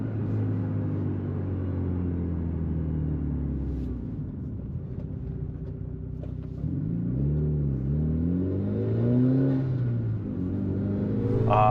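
A Mitsubishi Lancer Evolution 8 engine warming up at idle: a steady, close mechanical hum that swells into a few rising and falling revs near the end.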